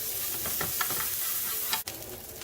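Onions sizzle and fry in a hot pan, a steady close hiss with stirring scrapes on top, ending in a sharp knock followed by continued frying.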